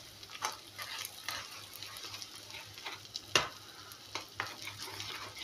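Egg fry with ponnaganti leaves is stirred in a pan, a quiet sizzle running under intermittent scraping strokes and soft clicks of the spoon against the metal, with no talking.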